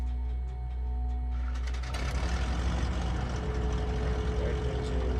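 A twin piston-engine aircraft's left engine cranks over and catches in Microsoft Flight Simulator 2020, a steady low hum giving way after a couple of seconds to a loud, rumbling engine roar that continues close and even.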